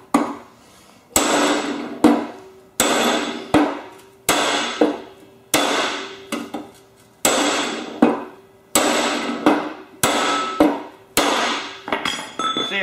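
A bent steel lawn mower deck is struck with a hammer outdoors near the spindle mounts: about a dozen loud, ringing metallic blows at a steady pace, each decaying into a short clang before the next.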